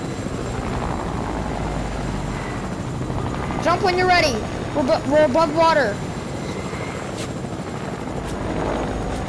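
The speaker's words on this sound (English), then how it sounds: "Drive the helicopter." A helicopter flies in a video game, its rotor and engine a constant loud drone throughout, with someone talking briefly over it midway.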